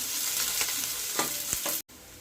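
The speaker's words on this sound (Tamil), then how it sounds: "நம்ம அரிஞ்சு வச்ச வெங்காயமும் ரெண்டு பச்சை மிளகாயை உடச்சி வச்சுருக்கேன் அதையும் நம்ம சேர்த்து வதக்கிக்கலாம்" Chopped onions and crushed green chilies sautéing in oil for tomato rasam, giving a steady close sizzle with a few sharp stirring scrapes before a brief cut and the frying resumes.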